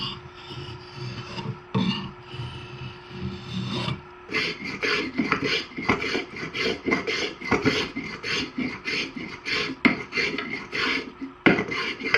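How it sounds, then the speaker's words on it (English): A rasp files the wood of a throwing axe handle in repeated rhythmic strokes, a close, coarse scraping that is slower at first and then settles into quicker, steady back-and-forth rasping with no talk. "I've switched to a rasp to do most of it"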